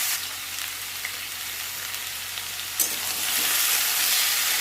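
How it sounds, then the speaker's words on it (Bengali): Chopped papaya and potato frying in hot oil in a wok give a steady, close sizzle and crackle that grows louder toward the end, with a stirring scrape partway through. "এবার কেটে রাখা পেঁপে আর আলুটা দিয়ে দিচ্ছি।"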